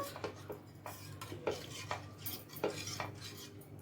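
Metal spoon scraping and clinking against a pan in a steady stirring rhythm, close up, mixing water into a semiya ice cream mixture, with no voices.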